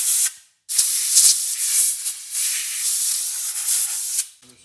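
Compressed air blasts foam out of a screw recess during a Porsche 914 teardown: two loud, harsh hissing bursts, the first brief, the second sustained for several seconds with slight fluctuations.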